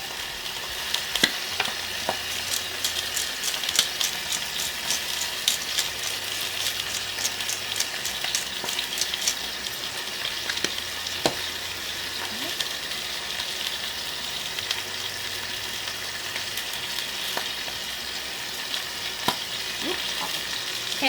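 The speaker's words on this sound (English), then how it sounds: "I'm just trying to get a nice sear on there, kind of a golden color." Garlic pork loin searing in a pan, a steady close crackling sizzle with scattered sharp pops and occasional light knocks, continuous and without speech.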